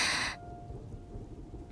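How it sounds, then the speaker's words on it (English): Rain and thunder from the visual novel 100Line: a dense burst of storm noise opens the moment, then cuts to a steady low rumble of rainfall with a faint tonal hum underneath, no voices. "Oh, looks like the rain is almost stopped. The lightning has died down too."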